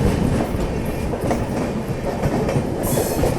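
Kurla Express rumbling past another train at a crossing, with steady close wheel clatter and rushing noise throughout and a brief high screech near the end.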